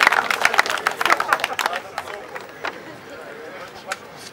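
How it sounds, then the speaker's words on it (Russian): Spectators at an amateur fight event clap for the first fighter stepping into the ring, a burst of sharp, close claps that thins out into scattered claps over crowd murmur. "Ваши аплодисменты."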